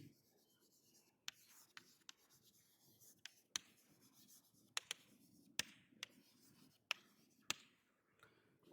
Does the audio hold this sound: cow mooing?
no